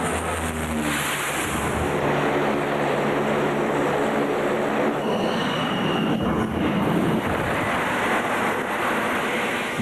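A 55,000-pound jet makes an arrested landing on an aircraft carrier deck, caught by a hydraulic piston and 2,000 feet of cable, a loud continuous roar of jet engine and rushing deck noise with a rising whine partway through.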